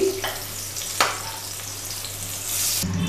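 Pumpkin pieces frying lightly in oil in a home kitchen pan, a steady soft sizzle throughout with a brief crackle near the middle and a louder hiss swelling at the end.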